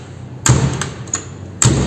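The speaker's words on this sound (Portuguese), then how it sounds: "Olha a porta, como é que tá fechando." A Fiat Fiorino car door shuts twice with firm, close thuds about a second apart, the second clean and solid, with no talking.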